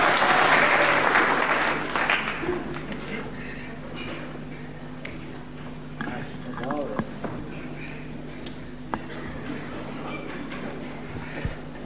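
Crowd at the Pavilion in Hemel Hempstead during a professional wrestling bout, a burst of applause and cheering at the start that fades into scattered crowd noise, with a commentator talking over it.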